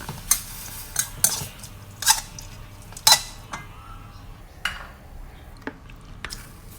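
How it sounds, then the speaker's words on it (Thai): Minced pork stir-fried with green sauce in a pan for squid larb, with a metal spatula clinking and scraping against the pan in sharp, irregular knocks over a low background. "คราวนี้เราจะมา ลวนหมูสับครับ ใส่ซอสผักเขียว ใส่หมูสับลงไป"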